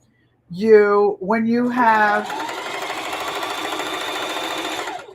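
Sewing machine stitching upcycled old clothes, a steady fast close whirring hum that starts after a short stretch of talk and runs evenly to the end.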